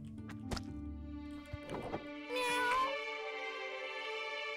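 A cat meows in the Just Crow Things video game, a few clear mews rising over a low game background, the last one longer and louder.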